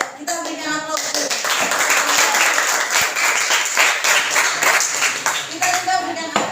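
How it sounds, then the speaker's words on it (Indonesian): Crowd applause in a school classroom during a teaching-practice session: a sustained wash of many hands clapping at steady volume for several seconds, with brief voices at the start and end. "kita berikan aplaus dulu"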